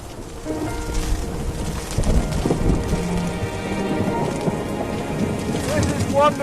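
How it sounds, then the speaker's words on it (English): A hailstorm on the Tibetan Plateau drives dense, loud pattering of ice chunks striking surfaces nearby, while deep thunder rumbles and swells beneath the constant clatter. "wonderful wildlife viewing in a hailstorm. Chunks of ice bouncing off my head"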